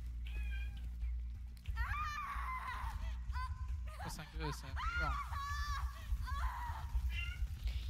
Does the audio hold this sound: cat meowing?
yes